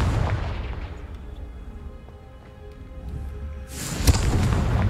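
A Confringo fire spell from Hogwarts Legacy bursting in a deep booming explosion with a rumbling tail, then a sharp loud crack near the end.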